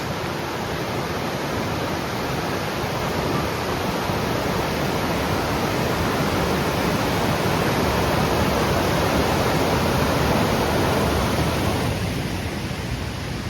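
A high creek pours into twin cave entrances in Spring Mill State Park, Indiana, making a loud, unbroken broadband rush of flowing water that stays steady throughout with no voices.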